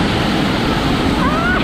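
The Velo de la Novia waterfall near Ushuaia, Tierra del Fuego, roars loud and close in a steady, dense rush of falling water that fills the whole moment.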